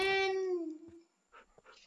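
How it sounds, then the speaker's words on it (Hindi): A dog in the Minecraft video game gives a loud, drawn-out whimpering whine that slides downward and fades, followed by a few faint scuffling game sounds. "आराम से आना कुत्ता आराम से आना"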